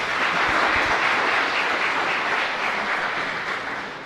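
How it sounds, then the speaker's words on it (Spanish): A church congregation at Mass applauding, a dense, loud and continuous roar of clapping that fades slightly toward the end, with no voices over it. "Fuerte aplauso para todos nosotros."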